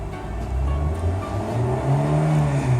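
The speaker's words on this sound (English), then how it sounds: "So here, I'll rev the engine a little bit." A car engine revs up close, a loud rising drone whose pitch climbs steadily toward about 4,000 RPM over a few seconds.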